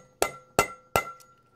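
A hammer taps a 10 mm socket to seat a valve stem seal on a K20 cylinder head. Three crisp, evenly spaced metallic knocks ring out close by, then a faint fourth tick.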